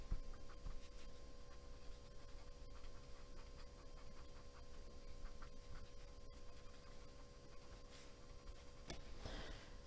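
A colored pencil scratches softly and continuously across paper while adding color to a drawing, a faint dry rasp with a few louder strokes near the end.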